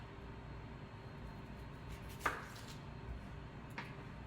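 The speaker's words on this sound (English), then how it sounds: "I'm just going to cut off either end of the onion" A knife cutting off the ends of a yellow onion on a board, two quiet separate chops about a second and a half apart, faint against low background hum.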